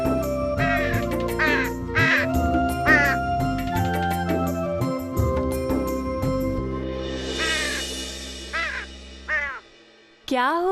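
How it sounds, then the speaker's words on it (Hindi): A crow caws repeatedly in harsh, rising calls over layered background music, the bursts spaced irregularly across the scene before the music fades out. "तुम इस कौवे को देखकर"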